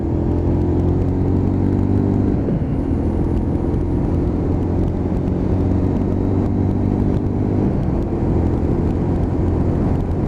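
A Lexmoto LXR 125cc motorcycle riding through town and leaning through roundabouts, its small single engine droning steadily up close with a continuous rumble and slight pitch shifts, no voices.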